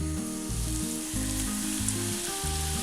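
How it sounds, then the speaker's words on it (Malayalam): Homemade French fries frying in hot oil give off a steady, close, continuous sizzle, with low musical tones running underneath. "ഇതിലേക്ക് ഇത് വീണ്ടും ഒന്നും കൂടി ഇട്ട് ഫ്രൈ ചെയ്യാം."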